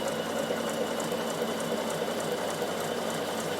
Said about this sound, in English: it's a lot quicker on an overlocker than it is on a sewing machine